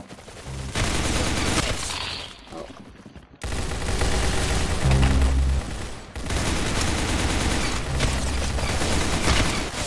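Gunfire in the video game Roblox Arsenal, with loud, dense volleys of rapid shots and a brief gap partway through. Close and sustained, with no talking.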